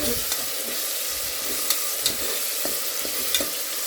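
Chicken with salt roasting in a pan for chicken biryani, a steady, close hiss of frying with occasional soft scrapes of stirring and no talk.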